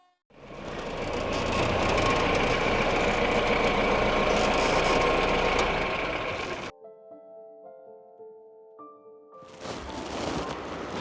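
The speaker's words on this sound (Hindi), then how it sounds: "देखिए गाड़ी का खुड़का हो रहा है" A vehicle arrives outside a house with a loud, sustained engine rumble lasting several seconds, which then cuts off abruptly to soft musical tones before the noise swells again.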